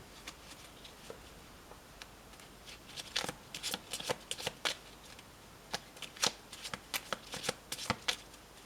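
Playing cards being cut and handled from a deck while dealing piles, a series of close, crisp riffling and snapping clicks in irregular bursts, sparse at first then denser, with no talk.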